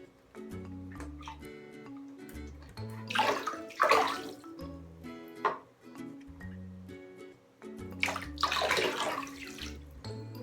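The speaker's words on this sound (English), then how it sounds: "we want to go ahead and add our bleach in and really give it a good stir" Bleach is stirred by hand into bathtub water for stripping cloth diapers, with two bursts of close splashing and swishing water over a steady background of music.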